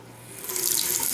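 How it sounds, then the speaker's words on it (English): Water bursts from a newly installed bathroom vanity faucet, a steady hissing gush that swells within half a second and keeps running loud and close, with no voices. "Woohoo! We got water."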